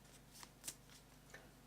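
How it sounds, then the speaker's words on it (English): Playing cards for a tabletop combat game are shuffled, faint soft riffles and taps in a few brief bursts over a quiet background hum. "So you would shuffle all of these"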